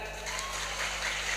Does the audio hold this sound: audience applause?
yes